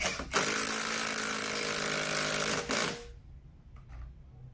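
A compact SfunPro 16V cordless drill drives a screw into soft wood, its motor whirring loud and steady for nearly three seconds before stopping abruptly, followed by faint handling noise.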